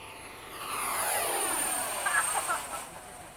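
FMS 70mm F/A-18 Super Hornet RC jet whooshing past in flight at an airfield, a rising and falling turbine roar with a sweeping pitch as it passes.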